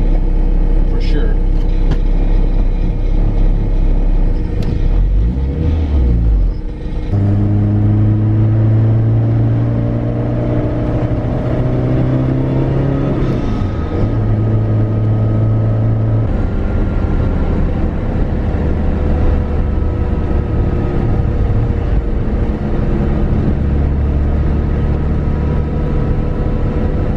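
An AWD Honda CRX with a short shifter cruising on the road, its engine droning and rising through gears with audible shifts, the interior hum constant and fairly loud; someone talks occasionally over it.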